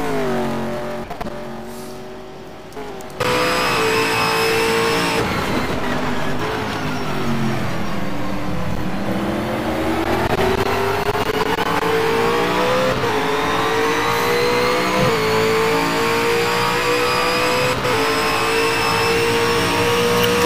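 A V8 Supercar engine revs hard in the rFactor racing game, a loud, continuous engine howl rising and falling through gear changes and corners over about twenty seconds.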